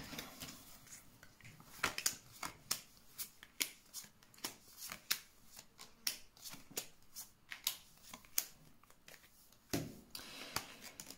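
Tarot cards being shuffled and drawn for a reading, heard alone as a quiet series of crisp, brief card snaps and flicks in an irregular rhythm with soft riffling between them.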